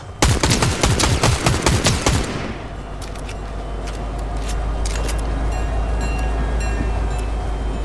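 Rapid loud bursts of automatic gunfire in Fortnite zero-build duo gameplay, a dense string of close shots for about two seconds, then a steady low rumbling hum with faint scattered clicks.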